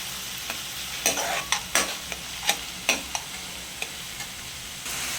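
Onion and capsicum fry in a pan for pav bhaji, a soft steady sizzle under irregular scraping stirs and sharp clicks of a spatula against the metal, close and moderately loud, with no talking.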